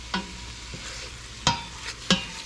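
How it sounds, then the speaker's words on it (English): Beef browning in oil in a pan over medium-high heat for carne guisada, a soft steady sizzle with three sharp scrapes of a utensil stirring the meat, fairly quiet and with no voices. "You want to cook it to brown your meat on medium high"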